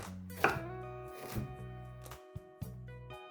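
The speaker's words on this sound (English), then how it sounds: "start with the carrots by trimming the ends, peeling them, then slicing them in half and again lengthwise" A knife slices through carrots and parsnip on a cutting board, producing a few separate crisp chops with quiet gaps between them, close up and fairly soft, with no talking.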